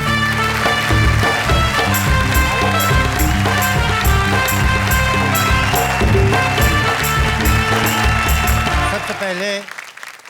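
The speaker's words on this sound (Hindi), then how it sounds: "तालियां बजाइए।" An audience at a Hindi comedy poetry show claps loudly and continuously, with dense applause blended with stage music, before both fade away near the end.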